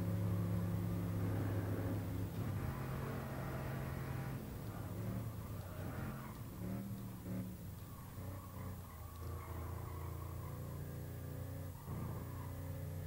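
A 389-horsepower Toyota Tundra pickup lapping the Nürburgring Nordschleife, its engine a loud, continuous drone whose pitch rises and falls with throttle and gear changes, with no pauses throughout.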